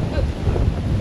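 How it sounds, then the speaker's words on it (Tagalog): Strong wind buffets the microphone outdoors in San Juan, Batangas, a brief, continuous low rumbling gust with no other clear sounds. "Lakas ng hangin."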